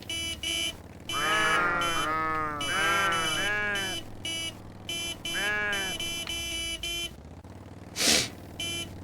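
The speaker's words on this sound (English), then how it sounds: "scaring the sheep." Sheep bleat in the video game Crescent County, several wavering bleats in bursts over a steady electronic beeping game tone, with one sharp noisy burst near the end.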